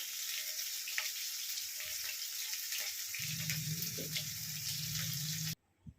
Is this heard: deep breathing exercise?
no